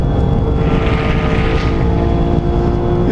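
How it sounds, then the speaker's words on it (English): A Porsche 911R's naturally aspirated engine holds a loud, steady high-rev drone from close by, running unbroken and with no talk over it. "A car that sounds every inch like a GT3 cup car."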